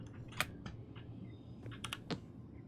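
Quiet, close clicks of computer keyboard keys in a horror video game, a few scattered taps and short clusters over a low background hum.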